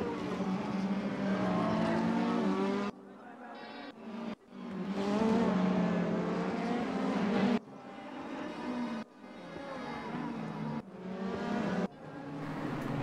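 BMW race cars battling on a racing circuit, engines droning loud and steady with rising and falling pitch, sound cutting off abruptly several times as the cars pass and the engines shift.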